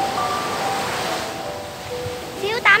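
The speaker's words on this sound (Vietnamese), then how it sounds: "Bây giờ là sóng lớn lắm." Large ocean waves roll onto Mỹ Khê beach at night in a continuous broad roar, with some faint tonal sounds and a brief voice near the end.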